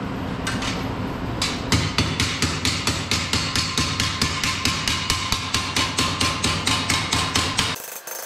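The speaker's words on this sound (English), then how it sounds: "Take my flat body hammer." Rapid, evenly spaced metallic taps of a flat body hammer on sheet metal of a fabricated wheel well, dozens of close, sharp strikes in a steady rhythm, ending abruptly.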